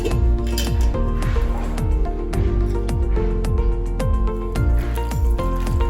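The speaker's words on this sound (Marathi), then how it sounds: "आता आपण याच्यामध्ये थोडं थोडं पाणी ऍड करत हे पीठ भिजवून घेऊयात" Flour batter with onion, tomato, coriander and green chilli being mixed by hand with water in a bowl for instant masala amboli, making rhythmic wet squelching and clinking strokes, close and steady, with no talking.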